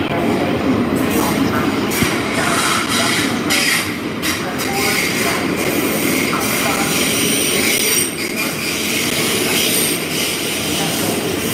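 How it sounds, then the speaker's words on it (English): A train rolls past nearby, loud and steady, with rumbling wheels and a metallic squeal. "What an epic train."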